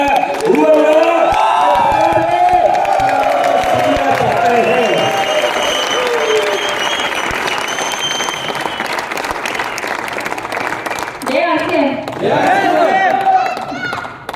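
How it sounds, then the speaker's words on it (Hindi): A large crowd at an RCM success celebration in India bursts into loud applause with cheering and whoops, building at first, then easing off before a fresh swell near the end, with voices mixed in. "लेकिन तालियां, सीटियां"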